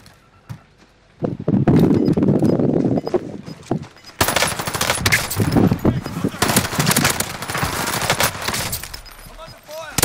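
Rapid bursts of gunfire from the shooter game Call of Duty: Modern Warfare rattle out loud and dense, coming in heavy sustained volleys after a brief lull, with voices heard amid the shooting.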